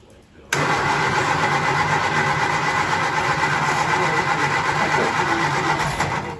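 A 1967 Triumph Spitfire Mk II engine turns over and catches almost immediately, then settles into a loud, steady idle that runs on continuously up close.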